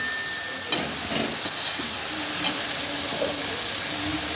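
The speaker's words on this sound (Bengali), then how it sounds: "এই দেখো আলু পেঁয়াজটা এখনও ভাজছি" Potatoes and onions fry in a pan with Kashmiri red chilli powder added, giving a continuous bright sizzle with occasional scraping stirs, close and steady.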